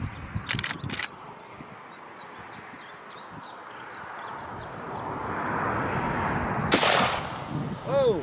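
A Rossi Rio Grande 45-70 rifle fires an Oregon Trail bullet reload outdoors. A sharp, loud crack rings out near the end over steady outdoor ambience, and a couple of shorter bangs come earlier.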